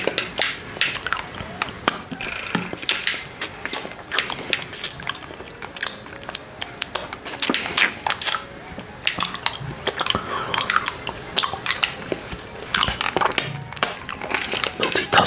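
Close-up crunching and biting on an orange lollipop, with many sharp cracks and wet sucking sounds in an irregular rhythm throughout, up close and fairly loud.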